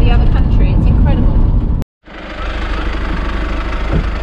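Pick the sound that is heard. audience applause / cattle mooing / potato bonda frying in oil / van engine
van engine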